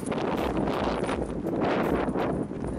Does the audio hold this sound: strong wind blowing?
yes